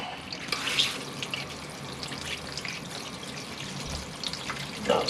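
A Portulacaria afra bonsai being watered, with water trickling and dripping through its dusty soil in soft, irregular splashes and patters close by.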